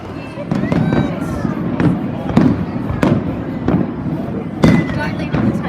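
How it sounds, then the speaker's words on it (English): Fireworks burst in a rapid series of sharp, loud booms and crackles during a New Year's countdown to 2019, with voices and a crowd murmuring underneath between explosions. "I hope you guys enjoy the fireworks."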